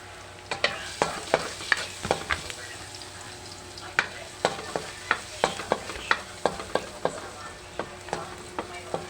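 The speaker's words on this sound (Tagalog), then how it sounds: "igisa muna tayo guys ng bawang" Garlic sautés in a pan for ground pork with sayote over a steady sizzle, while a spatula scrapes and taps repeatedly at an uneven rhythm, each stroke sharp and close.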